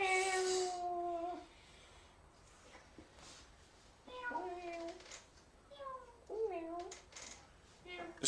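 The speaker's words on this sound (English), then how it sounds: "The cats are literally having a conversation here." Two cats trading meows back and forth, one long loud cry at the start and then rising and falling meows answering each other, with background noise and a faint voice in places.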